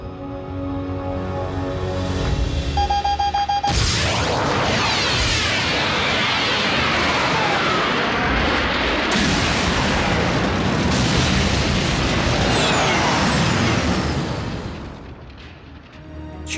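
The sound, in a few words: cartoon explosion of three tons of energon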